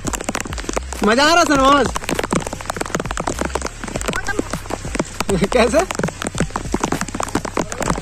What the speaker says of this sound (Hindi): बारिश भी चालू है और सूरज भी है